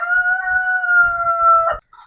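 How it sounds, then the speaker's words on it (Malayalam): A rooster crows once, loud and close, one long drawn-out call, among backyard chickens being fed sardine scraps in the hot Qatar sun, followed by a brief cluck. "ആദ്യം മത്തി മുറിച്ചതിന്റെ വേസ്റ്റ് കോഴിക്ക് കൊടുക്കട്ടെ."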